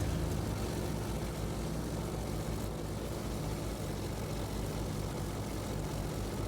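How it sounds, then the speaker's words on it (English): A propeller airplane flies steadily in the video game World of Warplanes, a constant droning engine hum at moderate level with no talking. "Nice little zippy airplane."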